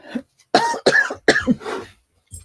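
Several loud, close coughs in quick succession, separated by brief pauses.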